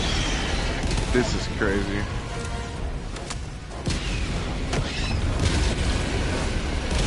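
An orbital walking barrage in the Helldivers video game pounds the ground with a series of heavy booming explosions spread across several seconds, set among loud game noise while people talk excitedly over it.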